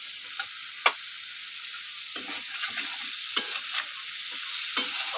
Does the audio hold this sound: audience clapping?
no